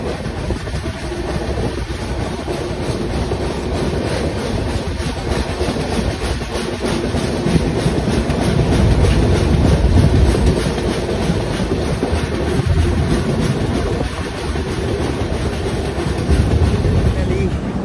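Howrah Barbil Jan Shatabdi Express rolling into Ghatshila railway station, with a steady clickety-clack of wheels over rail joints and a continuous rumble that swells slightly midway, heard from on board.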